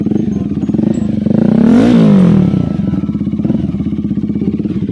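A Voge 300RR motorcycle fitted with an AC Project exhaust pipe idles with a loud, throbbing pulse. It revs up sharply to a peak and falls back to a rapid, burbling idle, recorded up close.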